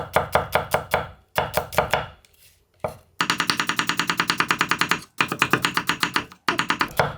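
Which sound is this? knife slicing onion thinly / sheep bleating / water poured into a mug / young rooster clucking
knife slicing onion thinly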